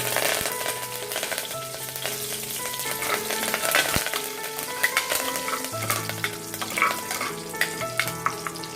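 Seeds and leaves crackle and spit in hot oil, a busy, close sizzle with sharp pops scattered throughout, under a faint background tone.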